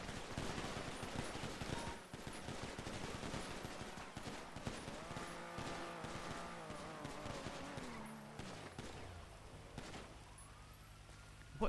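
Gunfire in GTA V NoPixel roleplay, dense volleys of rapid shots crackling close and loud, mixed with siren and vehicle sounds before easing toward the end, with faint voices.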